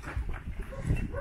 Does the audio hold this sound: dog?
yes